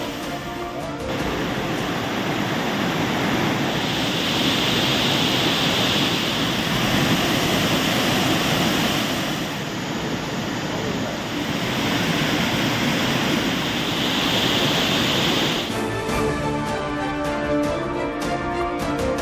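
Courtallam main waterfall in flood, a loud, steady broadband roar of rushing water that holds unbroken for most of the stretch before shifting near the end.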